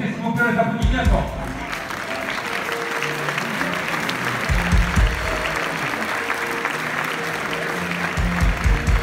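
A crowd applauds continuously at a New Year's wishes ceremony in Vias, a dense wash of clapping with a voice rising over it and occasional low thumps.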